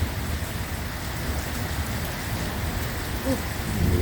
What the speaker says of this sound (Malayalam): മഴയുടെ ശക്തി കൂടിക്കൊണ്ടിരിക്കുകയാണ്